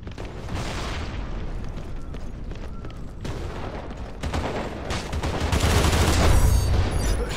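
A grenade going off in a video game amid rattling gunfire, with the blast swelling into a low, heavy rumble toward the end.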